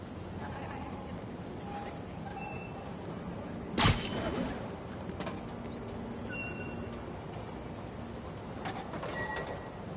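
A train moving through the rail system in Spider-Man Remastered, a steady rumble with metallic clatter and a sharp screeching burst partway through, loud and close under game voices.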